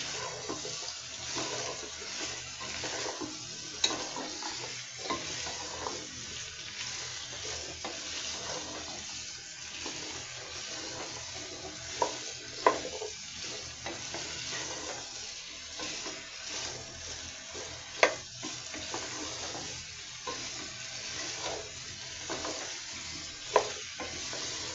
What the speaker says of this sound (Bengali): গাটি কচু, লতি এগুলি একটু যদি ভেজে নেওয়া যায় তাহলে লোটটা হয় না, একটু ভালো করে ভাজতে হয় আর কি।